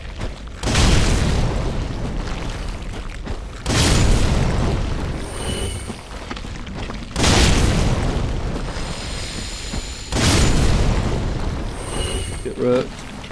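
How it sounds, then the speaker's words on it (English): Fire bombs in Dark Souls III burst in four heavy booming explosions spaced a few seconds apart, each loud and close with a rumbling tail, separated by quieter game sounds. "Yeah, I've got fire bombs."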